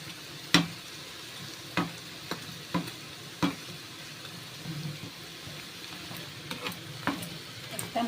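Lentil fritters (bora) frying in oil, a steady soft sizzle with scattered sharp spatters and clicks, moderately close and fairly quiet, no talking.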